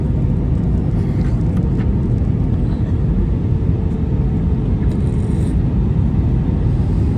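A loud, steady low roar of jet engines fills the recording, heard continuously from inside an aircraft landing at Kochi airport, with no talking.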